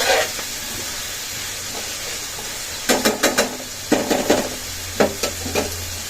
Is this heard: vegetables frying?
yes